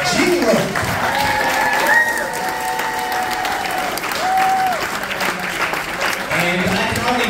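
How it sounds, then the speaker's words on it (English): Wedding guests applaud warmly in a sustained wash of clapping at a Rhode Island reception, with a few high whistles and cheers rising over the crowd. "How about a big hand for the father of the groom, Roland Roque, and his wife, Jean Roque."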